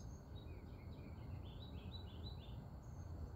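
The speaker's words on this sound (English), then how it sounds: "I'm also listening to the birds, feeling the air." Small birds chirp and twitter outdoors in the open air, a few light, faint calls repeating over a steady low background rumble.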